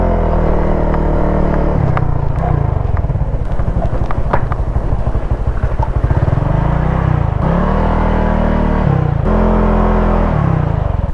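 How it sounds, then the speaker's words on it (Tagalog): Many motorcycles pass close by on a road near Masangret Cove in Cabongaoan, their engines droning and revving loudly in an unbroken stream, with rising and falling pitch as riders accelerate. "Ang dami ng motor, grabe."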